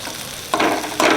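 Turmeric powder hits hot oil, giving two quick bursts of loud, close sizzling over a steady hiss.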